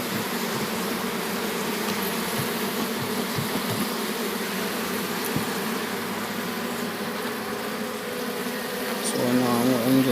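Honeybees buzzing around an opened hive during checkerboarding of frames, a steady dense hum of many bees close by, with a low tonal drone emerging near the end.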